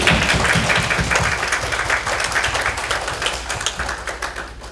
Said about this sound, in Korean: 박수로 맞으십시오